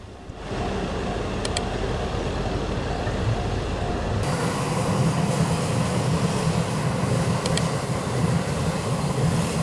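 A JR Yokosuka Line train rumbles past steadily at close range near a level crossing in Kita-Kamakura, a continuous rolling roar that swells and holds without letting up.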